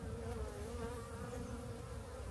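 Honeybees in an opened beehive during a late-January colony check give a steady, dense buzzing hum that carries evenly and fairly close throughout, with no voices.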